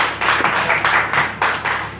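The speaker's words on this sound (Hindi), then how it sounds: "एक जोरदार तालियां होनी चाहिए सर के लिए।" Audience applause at an indoor gathering, a steady wash of many hands clapping with a slightly pulsing rhythm, loud and close, with no talk over it.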